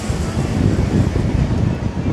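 Gusty wind buffets the microphone on an open-air trolley in Waikiki, a loud continuous roar that swells and dips, with faint traffic beneath.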